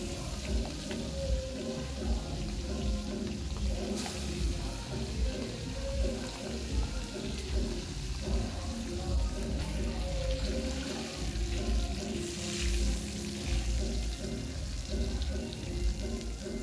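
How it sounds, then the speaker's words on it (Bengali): Pieces of pangas fish frying in hot oil, a continuous dense sizzle heard close up with a quiet voice in the background. "দিলে ভালোভাবে বাকি মাছগুলো ভেজে নেব।"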